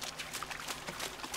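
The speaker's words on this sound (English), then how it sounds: "Wow, running in this water is really loud." Footsteps splash through water in the video game The Culling, a quick run of close sloshing steps lasting just over a second with no voices.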